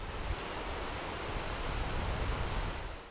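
Water gushes through reservoir floodgates, each opened about five centimetres, and pours out ten thousand litres a second as a constant, broadband rushing roar with no break.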